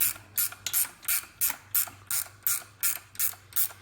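A ratcheting wrench clicks through steady back-and-forth strokes while backing out alternator bolts on a 1996–1999 GM 3800 Series II 3.8-litre V6, about nine crisp, close ratchet bursts evenly spaced with no talk.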